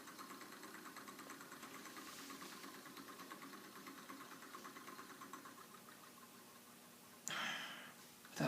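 A small physics demonstration electric motor runs steadily with a fast, even buzzing whir, its speed set by a potentiometer, then a sudden louder burst of noise near the end.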